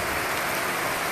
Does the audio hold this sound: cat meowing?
no